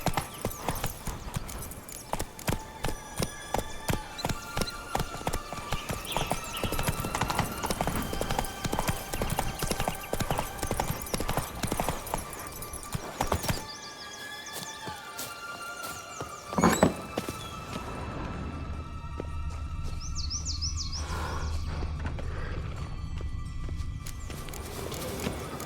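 Horse hooves clip-clop in a steady walking rhythm on the ground in The Witcher 3: Wild Hunt – Blood and Wine, loud and close, over background game ambience and music, then fading near the end.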